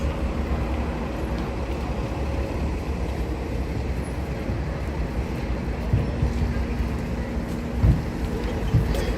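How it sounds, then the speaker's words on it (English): An extended articulated city bus passes on an Upper East Side street in winter, its steady low engine rumble and road noise filling the scene with continuous traffic sound, building slightly louder toward the end. "One of those extended buses."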